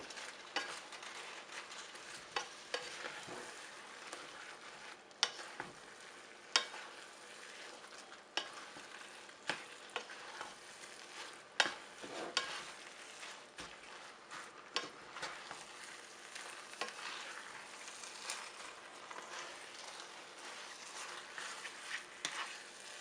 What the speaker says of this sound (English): My noodles are very slim, so I pretty much only need to toss them through